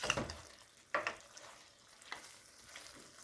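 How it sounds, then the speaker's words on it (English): Beef stir fry sauce thickened with cornstarch cooks in a pan over medium heat, giving faint soft sizzling with a few light stirring scrapes and clinks. "you want to cook this for about an additional minute or so on a medium heat until the sauce is nice and thickened from the cornstarch"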